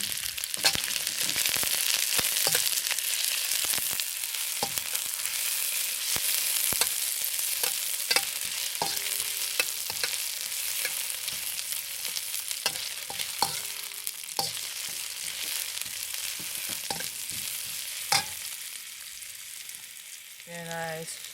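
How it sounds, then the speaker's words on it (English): Onion and garlic stir-fry in a hot pan with a loud, continuous sizzle, punctuated by frequent sharp scrapes and clicks of the utensil moving the pieces around. "Then I'm going to stir fry the onion first. And some garlic."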